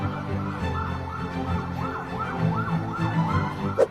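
An ambulance siren wails on a flooded street, loud and close, with a steady rising and falling cycle that repeats over a rumble of engine and road noise.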